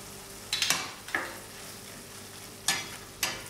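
A spoon scrapes and stirs a drumstick curry with spices as it sautés in a pan, a low sizzle broken by four sharp scraping strokes, no talking.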